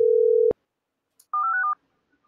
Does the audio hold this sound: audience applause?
no